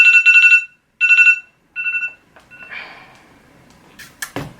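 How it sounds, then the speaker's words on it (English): A cooking timer alarm set for food in the kitchen sounds as loud, close, repeated bursts of high electronic beeping in short groups. It stops, and faint shuffling and clicks follow. "that is an alarm for some of my food that I'm making"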